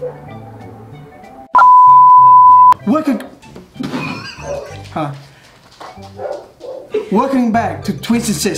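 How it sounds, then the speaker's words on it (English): A pet dog yelps and whines in short, close bursts, mixed in with someone talking and a loud steady tone partway through. "Sorry about the dog. He's screaming."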